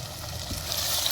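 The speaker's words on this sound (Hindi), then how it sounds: "भुजिया हमारी अच्छी तरह से भून रही है।" Potato bhujiya with spices frying in a pan, a steady close sizzle and crackle of hot oil with faint stirring scrapes, no voices.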